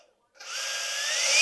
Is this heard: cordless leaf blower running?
yes